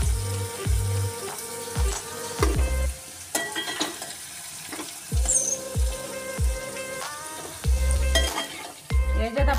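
Vegetables sizzle and fry in oil in a pan for a veg parda biryani, with steady loud bubbling crackle and repeated scraping of a utensil stirring and lifting them out, close and without speech.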